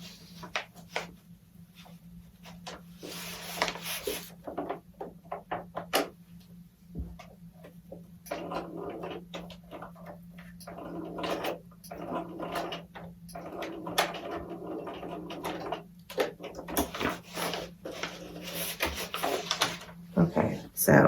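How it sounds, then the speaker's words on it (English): A sewing machine stitches a bodice seam in short runs of rapid mechanical ticking broken by pauses, close and fairly quiet, while a person talks over parts of it. "So let me stitch that just real quick."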